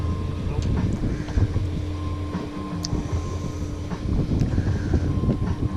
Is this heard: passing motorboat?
yes